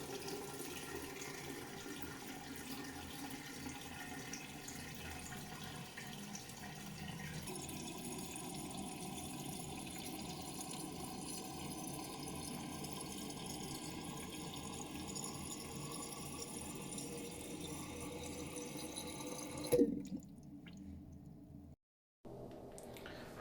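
A Geberit toilet cistern refills after a flush with a steady hiss and trickle of running water that continues evenly for a long stretch, then cuts off abruptly near the end.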